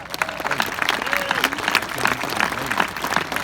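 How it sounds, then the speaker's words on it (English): An audience applauds during a graduation speech, with sustained dense clapping and faint crowd voices mixed in, full and continuous throughout. "That deserves some applause"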